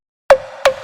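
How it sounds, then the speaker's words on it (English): Percussion layer from the drop of a song: two short, tonal, knock-like hits about a third of a second apart, each with a brief ringing tail, heard alone. "Throw in some percussion."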